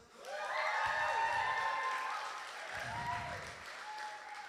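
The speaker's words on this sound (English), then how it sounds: "that applause is the peak of the next 15 minutes" A church crowd applauds and cheers at a comedy set, with clapping swelling into a loud wash and then tapering, while whoops and raised voices ring above it and one person speaks briefly amid the noise.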